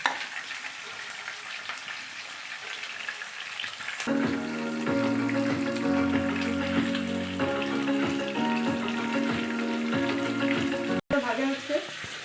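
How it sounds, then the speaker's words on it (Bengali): Fish frying in hot oil in a home kitchen, a steady loud sizzle and crackle that swells suddenly as the fish goes in and then keeps up continuously, with a little stirring and spatter throughout. "মাছগুলোকে ভাজতে দেবো।"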